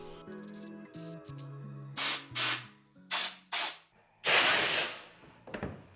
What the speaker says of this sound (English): pressure wash it, clean it all up, get all this dirt and grime off of the motor